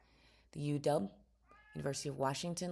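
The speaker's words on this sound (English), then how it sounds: "Yes, that is a cat meowing." A cat meows several times in close succession, loud and near, with a short pause between bursts of calls; a person speaks briefly over the sound.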